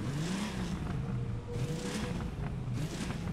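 A classic DeLorean's engine in The Crew 2 racing game starts and idles with a steady, full-bodied rumble, revving gently in two swells, close and continuous with no voices.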